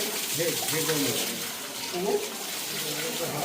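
Water pours steadily from a cow-mouth stone spout at a holy spring in Rajapur, a continuous close splashing rush, with faint voices in the background.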